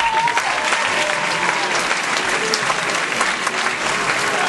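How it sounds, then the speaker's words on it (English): Comedy club audience in San Francisco applauding, a steady and dense burst of clapping filling the room for several seconds. "You guys, put your hands together, give him a lot of love for Bashar Zikur"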